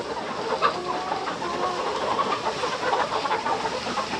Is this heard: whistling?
no